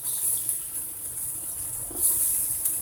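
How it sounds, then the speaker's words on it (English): Water from a tap runs steadily into a pot to cover tempeh in a home kitchen, a constant close hiss and gush lasting nearly three seconds with a slight surge near the end, no talking. "We're going to just fill it up until it's completely covered."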